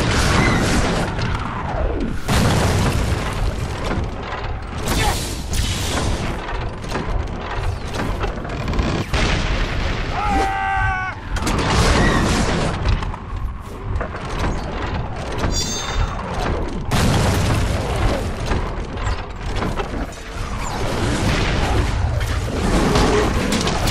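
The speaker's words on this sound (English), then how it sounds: "Catapults are vital. With them, we shall destroy those towers." Catapults launch and crash in the Minas Tirith battle of The Lord of the Rings: The Return of the King video game, dense booming impacts and rumbling explosions layered under continuous battle noise and score, loud throughout.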